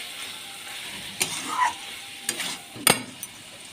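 Spinach and mixed vegetable curry is stirred in a pan, giving a few sharp spoon knocks and scrapes against the metal over a soft, low sizzle.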